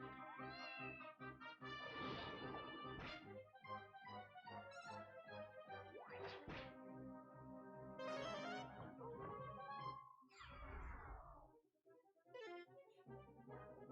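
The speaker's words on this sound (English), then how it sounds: "He's so cute with his little meow." A cat-like monster meows in Dragon Quest Monsters: The Dark Prince, with short, tonal mewing calls set against continuous layered game music and no talking.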